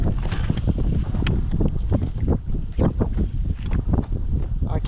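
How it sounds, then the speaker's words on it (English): Strong wind gusting across the microphone while bass fishing from a boat on open water, a loud continuous rushing roar with buffeting bursts throughout. "It's really windy right now."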